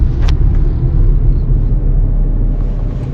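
A car driving along a narrow single-lane road during a driving lesson, its steady engine and road rumble continuous and fairly loud throughout, with no talk.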